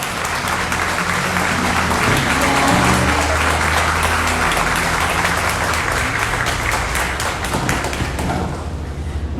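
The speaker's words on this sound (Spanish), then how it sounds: "Un aplauso para nuestro Dios." Congregation at a church retreat applauding together, loud sustained clapping filling the room for several seconds with some thumps, then gradually thinning and fading toward the end.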